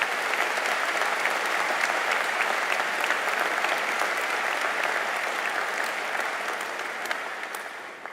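A large audience at a Liverpool University graduation ceremony gives sustained applause in a hall, dense, loud and even, fading slightly toward the end.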